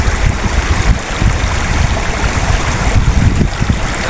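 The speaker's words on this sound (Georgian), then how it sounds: "პატარა ნაკადულთანაც მოვედით" A small, cold mountain stream flows over rocks near a hilltop at the end of a rough road, a steady close rushing and gurgling of water with no voices.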